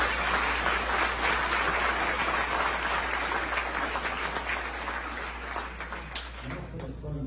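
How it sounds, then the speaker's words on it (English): Audience at a La Quinta candidate forum applauds a candidate, steady clapping over a low constant hum that tapers off toward the end. "how about a round of applause now for Alexander?"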